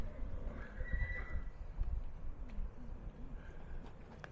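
A horse whinnies loudly and close by, with steady hoof clip-clop and faint birds in the background.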